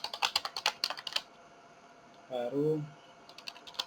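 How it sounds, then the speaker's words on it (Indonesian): Rapid typing on a computer keyboard while entering a server IP address, a close, quick patter of keystrokes in two bursts around a short spoken word. "di sini kita ketikkan dulu IP server kita"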